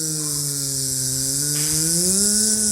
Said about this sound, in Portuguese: Vou pegar de novo aqui a minha lixadeira para que eu consiga realizar esse corte.